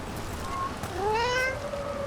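A cat meows in the video game Dragon Age: The Veilguard, giving one short faint mew and then a longer rising-and-falling meow, close but quiet over a soft ambient game background.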